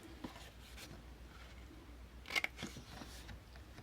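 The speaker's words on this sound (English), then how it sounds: "we're going to cut off these little corners here" Scissors snipping small corners off paper, a few quiet, short crisp cuts over a faint room hiss, the sharpest snips clustered near the middle.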